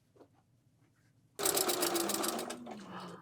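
A sewing machine stitching a table runner kicks in after a quiet start, its rapid whirring clatter running loud and steady at close range until the end.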